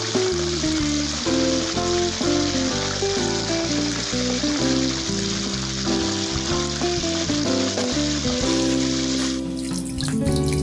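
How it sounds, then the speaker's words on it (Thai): Salmon belly, unbattered, fries in hot oil in a pan, giving a loud, steady sizzle that runs the whole way through with music playing underneath. "ทอดท้องปลาแซลมอนตรงนี้ค่ะตั้งกระทะให้ร้อนก่อนนะคะให้น้ำมันร้อนแล้วก็ค่อยๆนำปลาลงไปนะคะ"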